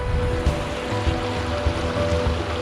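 Water rushes steadily beneath a wire-mesh trail bridge on a hiking trail, a continuous broadband wash with faint low thumps of footsteps on the bridge and no speech.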